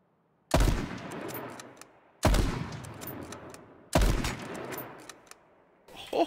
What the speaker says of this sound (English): Oh, took 3 shots, but I got somebody.